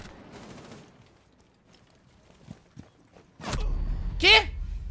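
Rainbow Six Siege gunfire: a few quiet distant shots early on, then a loud close burst of rapid firing, with a player talking excitedly over it.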